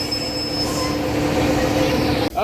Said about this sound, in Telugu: లోకో డిచార్జ్ అయిపోయిందండి వెళ్ళిపోతుంది ముందుకి